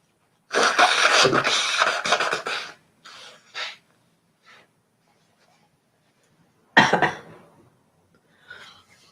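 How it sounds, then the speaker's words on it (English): A loud, forceful nose blow lasting a couple of seconds, followed by a few short sniffs and then a second brief blow. "let me blow my nose so I can have movement here"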